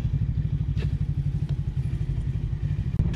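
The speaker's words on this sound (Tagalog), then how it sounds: "I love this motorcycle" An FKM Falcon X400 motorcycle on a test ride makes a steady, throbbing engine rumble with a regular pulse. It stays close and fairly loud, with a few light clatters and no speech.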